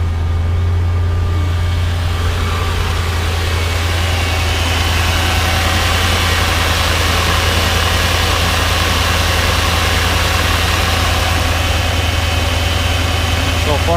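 A 2003 Mercedes E55 AMG idles with a steady low engine drone and a constant hum, its power steering noise mixed into the loud, even running sound.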